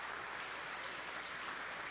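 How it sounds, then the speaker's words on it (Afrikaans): Steady applause from an audience for children at a school prestige event, a faint, even wash of clapping that lasts the whole short stretch with no voices over it. "ons gee hulle 'n lekker hande klap"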